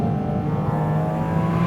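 A 2023 Porsche Cayman GT4 RS engine revving hard, a loud sustained high-pitched mechanical howl with strong steady harmonics, close and alone.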